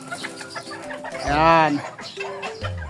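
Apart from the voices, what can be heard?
chickens clucking as they are let out of their coop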